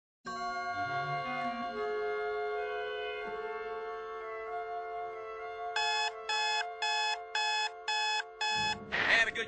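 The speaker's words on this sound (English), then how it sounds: "Oh, forgot to turn the blasted alarm off." An alarm clock rings with a sustained electronic tone that shifts into rapid repeated beeping pulses, loud and close, ending in a burst of noise, with no voices over it.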